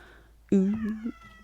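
A cat gives one short, loud, close meow that rises, holds and drops off, clear against a quiet room.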